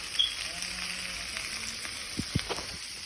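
Burgers frying in a pan give off a steady crackling sizzle, with a couple of sharper spatula taps and scrapes near the end and no one speaking.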